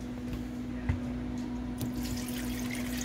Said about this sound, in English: So she's just filling up a little bit more water to add.